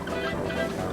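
Chickens clucking and squawking in the Wallace and Gromit: Muzzled video game, a dense, continuous flock chatter close by with a faint voice mixed in.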